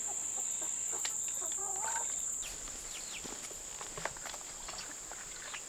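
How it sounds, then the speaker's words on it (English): Hens cluck softly nearby over a steady high whine and faint rustling, with a light knock near the end. "Let's get these chickens watered"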